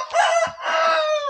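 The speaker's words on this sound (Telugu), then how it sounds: "అప్పుడే కూత పెట్టేసింది" A young rooster, about four months old, crows near and clear in two bursts: a short opening call, then a longer, slightly strained drawn-out crow, with no one talking.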